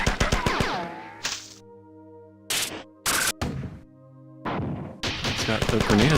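Grenade blasts and gunfire in the 1994 game Marathon, sharp bursts of shots and explosions broken by short silences and ringing tones, loud and close.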